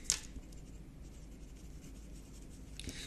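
Pen writing on paper while working a maths exam question: soft, close scratching and rubbing strokes throughout, with a slightly sharper tap at the start and quiet between strokes.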